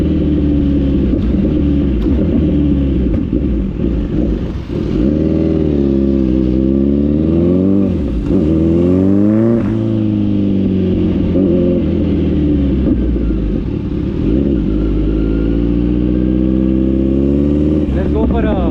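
Loud, close Kawasaki Z900 with an Arrow full exhaust system and no dB killer, revving hard in repeated rising and falling sweeps, with a harsh, raspy roar that fills the whole stretch.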